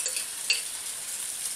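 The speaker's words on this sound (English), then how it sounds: "just give this a mix, make sure everything is covered" A chicken Kiev stir-fry with Cantonese sauce and five vegetables is stirred in a hot pan, giving a steady close sizzle with a couple of small utensil scrapes and clicks over it.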